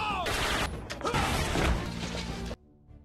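Rapid gunfire and crashing impacts from a shootout in a gangster film scene, loud and dense for about two and a half seconds before cutting to a quiet tail.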